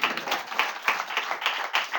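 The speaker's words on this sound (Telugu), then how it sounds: "కొట్టుగట్టికి చప్పట్లు." A church congregation claps in worship, a quick, even run of hand claps with a steady beat and no voices.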